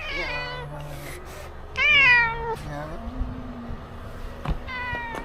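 Cat meowing outside a 7-Eleven convenience store in Paju, several clear close meows with pauses between them and faint background noise.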